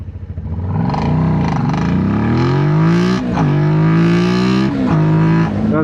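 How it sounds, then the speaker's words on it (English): A Suzuki SV650 motorcycle launches hard from a stop at a green light, its engine note climbing through gears in loud, close rising sweeps with brief dips at each shift. "I'm gonna see how fast I can go off the line with this bike"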